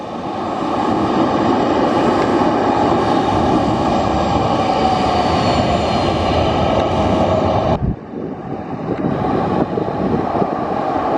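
An EasyJet airliner's jet engines roar loudly and steadily at Zakynthos airport, a broad sustained rumble with wind buffeting the microphone, easing briefly near the end before continuing.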